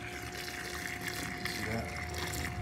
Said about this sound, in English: You can hear the pump going. This thing actually flows really well.